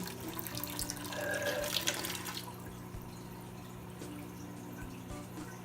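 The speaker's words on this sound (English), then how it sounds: "it's best to open up the valve and let it all flow" Water from an angelfish fry aquarium draining through an open valve, a steady rushing flow for about two seconds that then drops to a quieter trickle.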